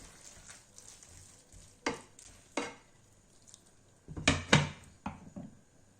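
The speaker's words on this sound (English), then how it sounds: "I'm just gonna give it a stir and then turn it off in 2 minutes." A few scraping stirs in a boiling pot of konjac noodles, with clattering bursts and a faint sizzle between them, close by and with no talking.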